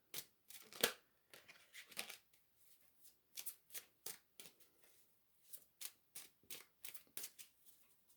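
Tarot cards are shuffled by hand and one is drawn, crisp papery riffles and slaps arriving in quick bursts, near and quiet, against an otherwise silent room.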